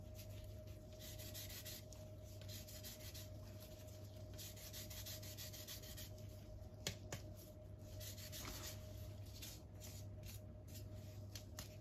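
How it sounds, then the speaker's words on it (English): Washed, dried oranges are rubbed against a zester for a sponge cake, a soft, close scraping rasp repeated in short strokes over a constant low background hum. "So I've washed my oranges and dried them. So I just want some orange"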